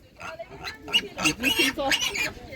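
Piglets at an animal market grunt and squeal in short, high bursts close by, several overlapping calls in quick succession.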